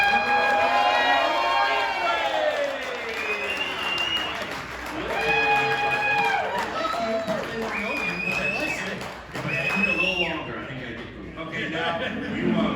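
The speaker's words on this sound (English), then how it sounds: "Can we get a witness and a raucous round of applause for Chad?" A live radio show crowd in Lakeville, Minnesota, cheers and applauds loudly and steadily, with raised voices and shouts rising above the clapping the whole way through.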